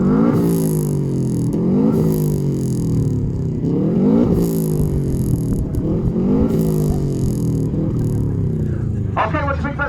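A Subaru's engine is revved repeatedly at a classic car show loudness contest, loud rising and falling revs in a rhythmic pattern, with a crowd and voices in the background.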